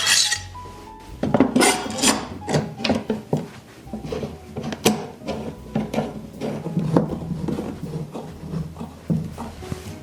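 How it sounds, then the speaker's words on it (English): Wooden boards being clamped to a table for block planing: a string of close knocks, wooden clunks and metallic scrapes and clicks as the clamps are positioned and tightened, fairly loud with irregular rhythm. "I'm going to take these clamps and secure it in place"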